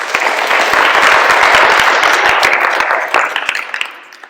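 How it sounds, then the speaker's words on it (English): An audience at a school interhouse public speaking event gives a loud, dense round of applause that holds steady, then thins into a few scattered claps before fading out. "Give yourselves another round of applause"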